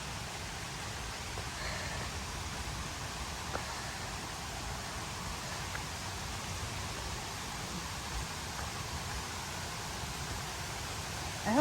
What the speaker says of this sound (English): That sound worries me. The rushing, crazy water.